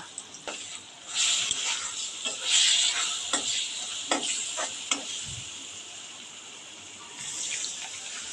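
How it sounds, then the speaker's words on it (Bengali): Spice paste fries in oil for a pangas fish curry, a bright continuous sizzle broken by scattered spatula scrapes and taps against the pan, close and fairly loud with no talking. "মশলাটাকে এবার তেলের সাথে একটু ভেজে নেব যেন কাঁচা গন্ধটা চলে যায়"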